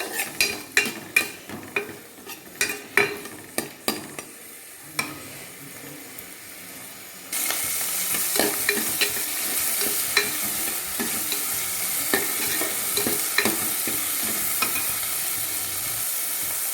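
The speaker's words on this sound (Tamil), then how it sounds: "தக்காளி போட்டு தக்காளியும் கொஞ்சம் வதங்குற வரல கொஞ்சம் அப்படியே வதக்கிட்டுக்கலாம்" Tomatoes sautéing in a pan for potato kurma, first a series of close stirring scrapes and knocks, then a steady loud sizzle of frying with occasional spoon clicks, no voices.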